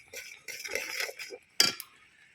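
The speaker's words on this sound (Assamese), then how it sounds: "এতিয়া ধুনীয়াকৈ আমি চব পিনে মিলাই হিলাই থাকিম" A utensil stirs bogori (jujube) pickle with spices in a pan, making close scraping swishes and a sharp metallic clink near the end, with no talking.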